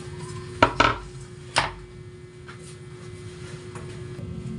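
A knife chops food on a cracked cutting board propped on a makeshift rest in a home kitchen, a few sharp close knocks early on, then quieter faint taps over a low background hum.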